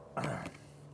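A single short, close burp from someone who has just had chicken teriyaki and sour strawberry beer, a brief throaty burst in an otherwise quiet room.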